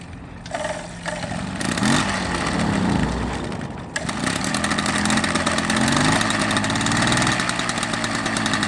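A 1980 Motobécane M7 moped engine catches after a few sputtering cranks, then settles into a fast, rattling two-stroke idle, close and continuous.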